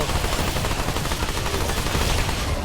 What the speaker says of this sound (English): Nope. Mortar. I haven't seen mortar in a while.